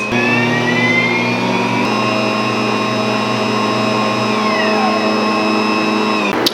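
An electric mixer runs continuously at a loud, steady whine while it kneads pizza dough, with a slight shift in pitch partway through and no talking.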